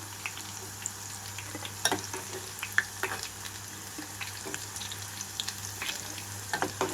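Bitter gourd pieces fry in oil in a pan with a steady soft sizzle, occasional light clinks and stirring, and a constant low hum behind.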